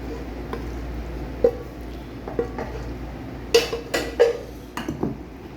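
Aloo gobi scooped from the cooking pot into a serving bowl, with scattered metal spoon clinks and scrapes against cookware, close and intermittent over quiet kitchen background.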